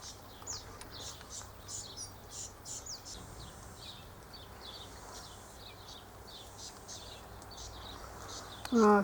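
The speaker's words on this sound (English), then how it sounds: "There are several cockatoos in that tree. And they're all eating the pine nuts." Several cockatoos feed on Callitris pine nuts in a tree, giving soft, repeated chirps and calls at a distance over a quiet outdoor background, with a louder sound close by at the very end.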